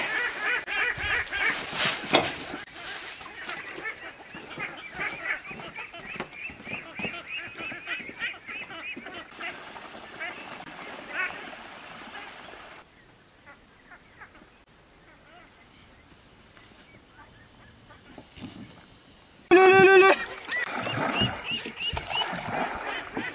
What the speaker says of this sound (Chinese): 然后种之前把这个鸭子喂一下